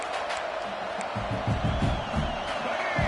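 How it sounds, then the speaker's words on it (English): A home crowd at a college football game against Cincinnati roars and cheers in a steady, distant wash of voices, with brief louder swells near the end. "this home crowd is fired up and ready to make a difference today"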